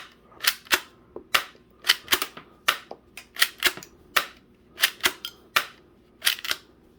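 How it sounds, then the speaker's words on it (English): Toy Glock gel ball blaster (YUAN/Cruxnut) firing and ejecting shells: a dozen or so sharp, close snapping pops, some single and some in quick pairs, spaced irregularly with quiet gaps between, no talking. "you insert your mag, you fire, and then when you cock it again,"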